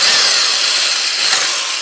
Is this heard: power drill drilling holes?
yes